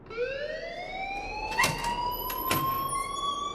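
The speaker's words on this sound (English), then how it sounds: "Leave Miss Caulfield alone and please turn off that alarm" A rising alarm siren in Life is Strange (2015) winds up in a smooth upward wail, loud and continuous, with a couple of sharp knocks or bangs partway through.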